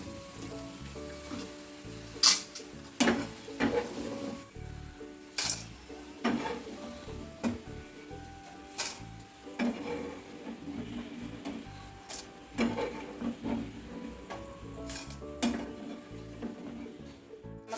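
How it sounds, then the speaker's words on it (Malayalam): Jackfruit fibre chips fry in hot oil with a soft, steady sizzle while a spoon stirs them, giving irregular scraping clatters and knocks against the pan throughout. "നല്ലതുപോലെ ഇളക്കി കൊടുക്കാം നമ്മുടെ ചകണിയൊക്കെ മൂത്ത് വന്നിട്ടുണ്ട് നമുക്കിത് കൊരിയെടുക്കാം"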